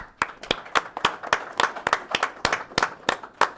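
Applause at a county board of supervisors meeting honouring young State Field Day winners, a modest group clapping in a loose, distinct rhythm, each clap crisp and near.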